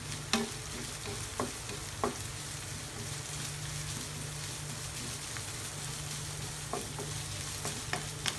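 Ground beef sizzles steadily in a hot pan while a utensil scrapes and stirs it, with occasional sharp clicks against the pan over a constant frying hiss.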